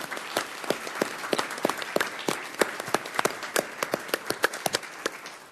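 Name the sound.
audience applause for deputies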